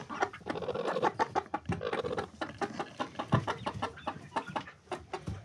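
Several chickens cluck and chatter close by in a coop, among them a naked neck hen sitting in a nest box, a busy stream of short, overlapping clucks heard on their own.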